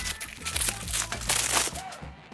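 Wrapping paper crinkles and rustles as a gift is unwrapped for a Gelfman IN-16 Nixie unboxing, close and busy, with uneven crackling handling noises and no voice.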